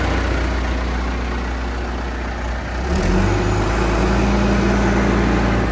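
A John Deere 310SG backhoe's diesel engine runs in 4-wheel drive, a steady close idle rumble that steps up slightly louder and deeper partway through, then holds evenly to the end.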